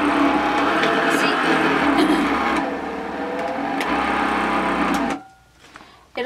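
A Shark cordless sweeper runs on carpet with a loud, steady motorized whir and brushing buzz for about five seconds, then cuts off abruptly into near quiet, with a person talking over it.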